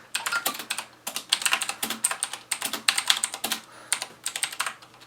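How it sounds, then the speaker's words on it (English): Typing on a cheap mechanical keyboard with Outemu blue switches gives a quick run of crisp, clicky key presses. The bursts are close and fairly quiet, with short pauses between them, and no one talks. "Let's try typing on it."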